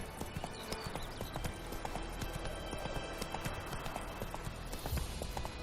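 Horse hooves clip-clop steadily at a trotting rhythm on a road in the video game The Witcher 3, a continuous close galloping patter over faint ambient background.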